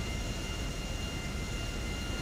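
Steady, loud airplane engine drone in a video game, a continuous broadband roar with a faint high whine, constant throughout with no talk.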